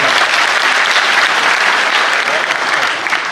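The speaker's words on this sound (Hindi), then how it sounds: "एक बार तालियां बजाकर मंदिर कविता शुरू कर" Dense, steady applause from a large audience at a Hindi comic poetry gathering, a loud, even wash of many hands clapping throughout with no voice over it.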